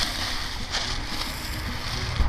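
Lawn irrigation sprinkler zone for an outside north lawn switching on, with a steady broadband hiss of water spraying close by that stays even from start to end.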